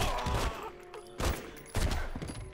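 Three sharp bursts of gunfire in The Godfather game crack out in quick succession, loud and close, with quieter stretches between them.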